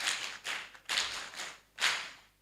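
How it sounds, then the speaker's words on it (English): Brief bursts of audience clapping at an agricultural extension week event in Uganda come in several short, fairly faint waves with gaps between them. "Let's give them a big round of applause"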